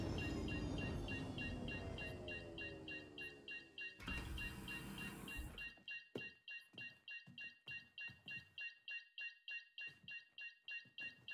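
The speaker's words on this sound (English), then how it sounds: "This beeping is a bit on the annoying side." A ship's proximity alert in the Star Citizen video game sounds as a fast, regular train of electronic beeps, preceded by a few seconds of engine hum and a rushing swell, moderately loud and without speech.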